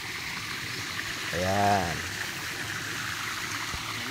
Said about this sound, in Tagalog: So, may isang pang falls dito.